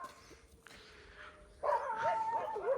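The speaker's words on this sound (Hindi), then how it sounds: "फिलहाल तो चारों तरफ से भौंकने की आवाज आ रही" Outdoors in an Indian village, several dogs bark and yelp from various directions. At first they are faint and distant, then a sudden louder burst of overlapping, whining yelps comes from closer by.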